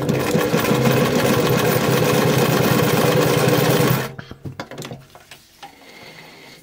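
A sewing machine stitches through two layers of slippery material about 4 mm thick, running loud and steady for about four seconds before stopping, followed by a few short mechanical clicks and bursts.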